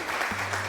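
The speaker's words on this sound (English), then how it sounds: "thank you for the hearty applause" A short burst of clapping, close and busy, with a low hum running beneath it.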